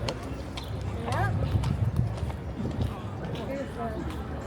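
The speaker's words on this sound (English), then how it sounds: "And there's the horses." Horses' hooves clip-clop on a New York City street near Central Park, a loose, irregular clatter moving along under background city noise and people chatting.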